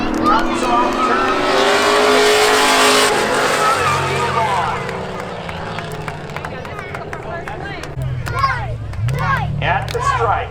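Race cars in spectator drags at Seekonk Speedway roar past in a loud, sustained engine drone that shifts as they pass and fades, with a race announcer talking over the noise throughout.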